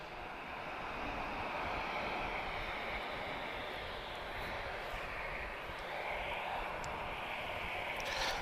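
An Embraer E190 jet taking off at Lisbon Airport gives a steady, broad engine roar that holds for the whole stretch, heard from some distance and slightly rising and falling with wind-like rush, no voices.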